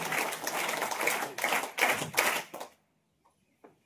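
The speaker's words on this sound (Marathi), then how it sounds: "या दोघांचेही आपण विद्यालयाच्या वतीने प्रथमतः क्लॅप टाळ्या वाजवून स्वागत करूया." Students in a school hall clap to welcome guests, a dense burst of applause that swells in waves for about two and a half seconds, then stops abruptly, leaving near silence with a couple of faint taps.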